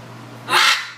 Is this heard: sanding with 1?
no